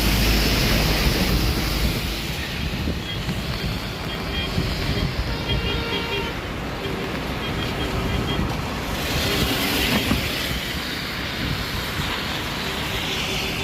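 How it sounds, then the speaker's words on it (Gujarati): Malan river in flood, running bank to bank with a strong current near a national highway crossing. A steady, loud broadband rush of water persists throughout, mixed with wind buffeting. "માલણ નદી. બે કાંઠા વહી રહી છે. અહીંયા મિત્રો પાણીનું તાણ કેટલું છે એ તમને જોવા મળશે."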